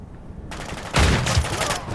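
Gunfire in Call of Duty Modern Warfare III: after a short quiet start, a burst of rapid shots breaks out, growing loud and punchy in the middle before tapering slightly, with game voice chatter mixed in.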